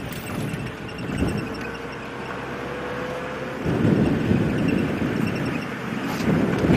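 Wind roaring past an open safari vehicle driving quickly at sunrise, a continuous loud rush and buffeting on the microphone that swells louder midway, with a low engine rumble underneath.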